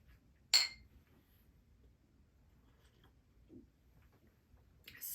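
Two drinking glasses clink together in a toast over a cherry blossom springtime drink, a single sharp bright chime near the mic, with a second faint clink at the end and quiet room tone between.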